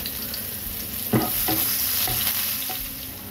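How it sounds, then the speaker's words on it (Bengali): Chopped onion fries in oil with salt and turmeric, a steady close sizzle broken by several scraping stirs of a spatula in the pan, with no voices. "প্রথমেই আমি তেলে পেঁয়াজ কুচি দিয়ে দিলাম, একটু নুন দেবো আর একটু হলুদ দেবো, দিয়ে এটাকে ফ্রাই করে নেবো"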